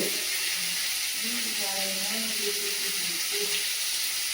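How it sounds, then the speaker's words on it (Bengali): A curry of prawns, bitter gourd, potato and green banana fries with a cumin tempering in a home kitchen, a steady loud sizzle and hiss that continues without a break, with faint voices underneath. "শুধু জিরে আর ফোড়ন দিয়ে তরকারিটা রান্না করছি"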